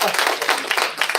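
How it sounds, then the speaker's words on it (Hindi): Audience clapping at a motivational talk, a short burst of dense, steady applause from a crowd, fairly loud and close, with some voices mixed in. "बहन के लिए ताली बजाओ"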